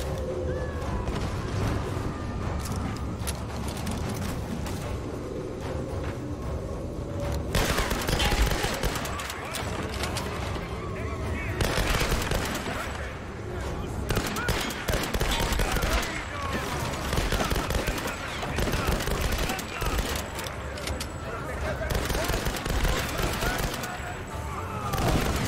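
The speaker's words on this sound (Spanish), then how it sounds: "Me voy a poner la ametralladora." Machine-gun fire in the Tomb Raider video game comes in repeated rapid bursts across about 25 seconds, loud and close, with the shots clustering into several denser volleys.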